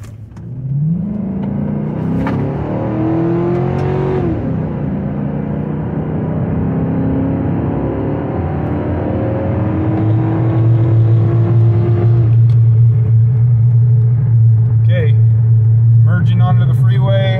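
A 2007 GMC Sierra Classic pickup truck accelerates hard, its engine note climbing in rising sweeps through the gears before settling into a steady, loud drone at cruising speed, with brief voices near the end.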